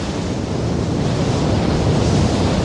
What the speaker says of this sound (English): It's a heavy wearing wind that locals learn to shelter from.